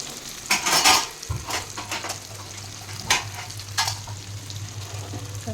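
Gunta ponganalu fry in a pan with a steady low sizzle, punctuated by a few sharp clinks and scrapes of a spoon or lid against the metal; no one speaks.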